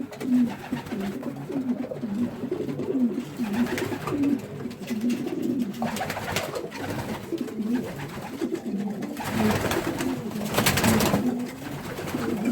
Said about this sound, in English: All these birds in here, by the way, are cock birds. They're all males.